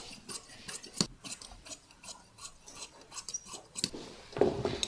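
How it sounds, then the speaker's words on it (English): Scissors snipping through jacket lining fabric along a sleeve and forearm seam, a close series of crisp cuts and soft rustling of cloth, with a louder scrape of handling near the end. "and then cut it down forearm seam"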